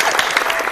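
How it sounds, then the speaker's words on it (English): A short, close burst of applause from a small group, dense and steady, with a hint of voices mixed in. "yes, applause"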